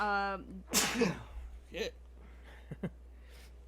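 A single sharp sneeze bursts out close to the microphone in the middle of a spoken true-crime narration, followed by a muttered word and a couple of faint clicks.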